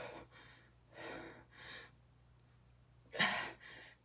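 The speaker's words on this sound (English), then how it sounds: "Deep breaths." Deep breathing during a countdown strength workout: several breaths in sequence, inhales and exhales close and fairly quiet, with one louder, sharper gasp near the end.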